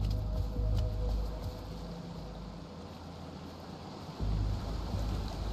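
Steady rushing roar of a waterfall near a creek in the video game Alan Wake 2, a dense continuous wash of water noise that dips briefly in the middle before swelling back to full strength, with no talking.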